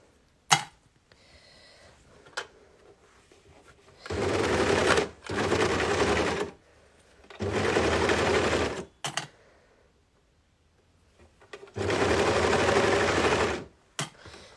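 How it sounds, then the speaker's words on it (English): An overlocker stitches the seams of a long-sleeve baby tee in four short, rapid bursts of chattering mechanical stitching, separated by pauses with small clicks and handling noises. "It's important when you're overlocking to make sure you do get both raw edges."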